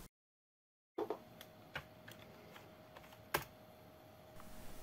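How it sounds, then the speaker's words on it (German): Caps Lock and Shift keys on a retro 486 PC keyboard are pressed, a few sparse, crisp plastic clicks close up after a brief silence, with no speech. "Hier verriegelt man durch die Caps Lock-Taste, löst allerdings wieder durch die Shift-Taste."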